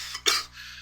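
A single short cough from someone getting over a cold, close and fairly loud, with a smaller catch of breath just before and quiet room tone after.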